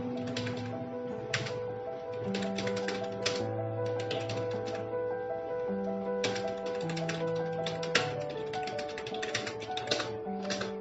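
Keys on a computer keyboard are tapped in quick irregular bursts with short pauses as a narration is typed into a journal voucher entry in Tally ERP 9 accounting software. The typing is close and clear over a faint background tone, with no speech.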